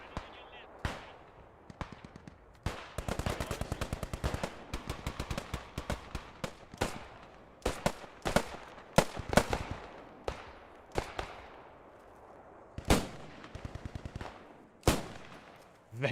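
Automatic rifle fire from a Browning Automatic Rifle (BAR) during a Post Scriptum battle at Stone, 1944. The bursts are repeated and rhythmic, mixed with scattered single shots and other weapons. Fire swells and fades at moderate distance, with voices under it.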